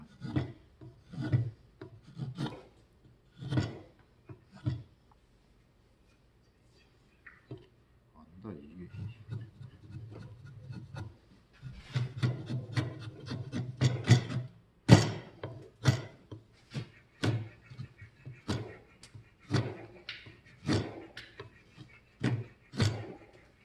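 Hand carving of a wooden kuksa cup: rhythmic rasping knife strokes on wood, a pause, then faster, denser scraping strokes with occasional sharp knocks, close up, with people talking at times.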